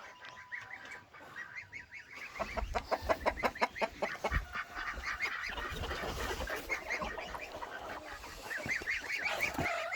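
Geese honk repeatedly in a noisy flock, loud, overlapping calls building after a quieter start, with some clucking mixed in.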